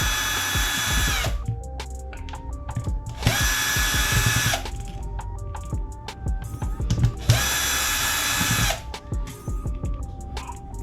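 A power tool whirs in repeated short bursts while removing screws from an airsoft AEG gearbox, loud and close, with ratcheting clicks and small handling clatters between runs and no talk.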